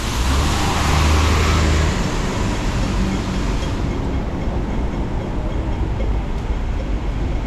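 A steady, loud rumble of a tram rolling past on Burrows Street in Wan Chai, Hong Kong, with road traffic noise continuing throughout.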